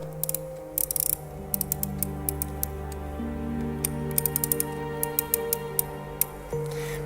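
The clockwork mechanism of a restored automaton is wound tight, giving quick bursts of ratcheting clicks over a low steady mechanical hum, close and without voices.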